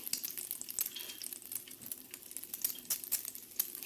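Eggs frying in a spicy masala gravy in a pan, a steady hiss and crackle with soft stirring scrapes running throughout, close and moderately quiet with no voices.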